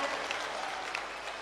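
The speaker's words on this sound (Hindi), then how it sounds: "जोरदार ताली बजा करके हम सब पूरा बागेश्वर परिवार स्वागत करें।" Loud applause from a large crowd at a Bageshwar Dham religious gathering welcoming the Prime Minister, a steady dense clapping wash throughout.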